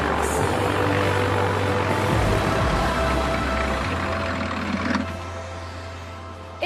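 An aircraft engine rumbles loudly and steadily at an airfield apron as a plane arrives and taxis, the drone holding close then easing slightly lower toward the end.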